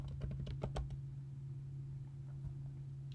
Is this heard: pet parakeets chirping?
no